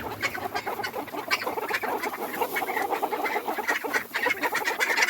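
Chickens shut inside their shed during a freezing winter storm cluck and chatter in a busy, overlapping jumble, many birds close by at a moderate level with no talking.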